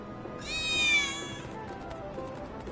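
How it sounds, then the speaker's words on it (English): A cat meows once in a video game, a clear drawn-out call at moderate volume over quiet background ambience. "I think one of Betty's cats might be nearby."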